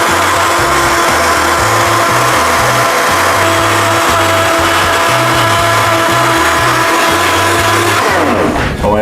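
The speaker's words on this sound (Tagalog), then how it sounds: "And then, blender lang po natin." A blender whirs loudly and steadily for several seconds, blending a salad dressing, its motor pulsing as the contents churn, then winds down at the end.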